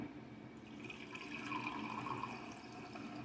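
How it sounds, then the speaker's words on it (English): Rose water pours from a bottle into a teacup in a steady, fairly quiet trickle that rises slightly in pitch as the cup fills. "But first of all, take rose water. I'm going to pour it"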